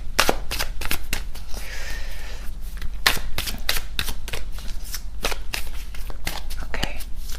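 Tarot cards being shuffled during a reading, a steady run of crisp riffles and snapping card flicks repeating close by for several seconds, with a soft voice murmuring briefly in the middle.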